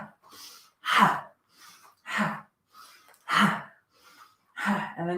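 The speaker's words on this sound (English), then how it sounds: "Keep it going. Deep breaths." Deep, rhythmic breathing during a morning yoga session, slow audible inhales and exhales alternating at a steady pace, close and fairly loud, with no talking.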